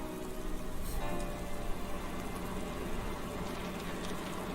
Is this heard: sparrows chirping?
no